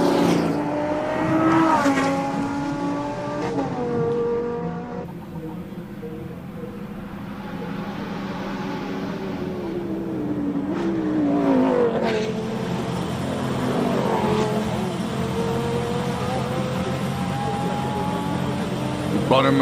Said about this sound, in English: Let's just listen to this Lambo, Arnie.